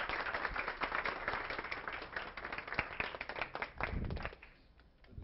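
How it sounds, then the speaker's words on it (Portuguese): An audience at a philosophy talk event applauds, dense clapping at moderate distance that thins out and fades toward the end. "Vamos recebê-lo com um aplauso carinhoso."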